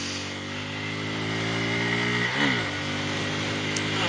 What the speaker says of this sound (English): I'm riding a very sporty naked bike and not a relaxed commuter